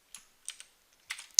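Keys tapped on a computer keyboard during a Microsoft Graph demo, with several short bursts of clicks separated by pauses and a sharper final keystroke, close and fairly quiet.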